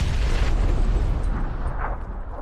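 A grenade blast in PUBG: a single loud, close boom whose rumbling roar fades gradually over about two seconds.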